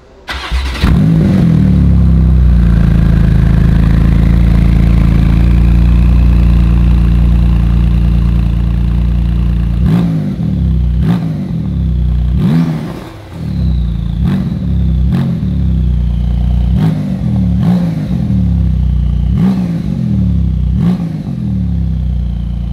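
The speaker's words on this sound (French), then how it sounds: "je veux juste vous faire le démarrage de la voiture" A car with a stock exhaust fitted with valves starts up and idles with a deep, raspy note, then gives a series of sharp revs in the second half, close and loud with no talking.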